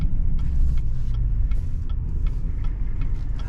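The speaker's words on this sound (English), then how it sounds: "once this vehicle passes" A vehicle passes on a road while a stopped 2020 GMC Sierra 3500 Denali 4x4 waits, producing a steady low rumble of engine and tyres that holds throughout at moderate loudness.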